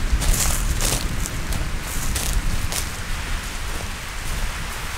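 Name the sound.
irrigation system spraying water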